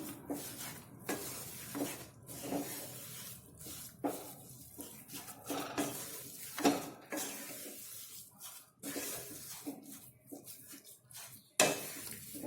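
Spoon scraping and stirring a faral sukhdi mixture in a metal pan, with repeated clinks and scrapes in an uneven rhythm, close and moderately loud, no talking.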